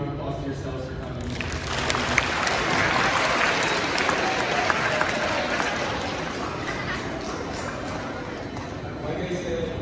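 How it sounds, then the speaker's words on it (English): A large crowd applauds steadily, a dense wash of clapping that swells and holds before easing off slightly toward the end. "please give a round of applause to yourselves for coming"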